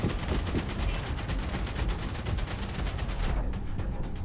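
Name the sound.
gunfire from the video game Outpost Infinity Siege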